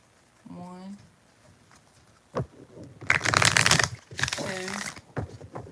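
Tarot cards riffle-shuffled in two loud, dense bursts of papery rattling, with a person speaking before and after.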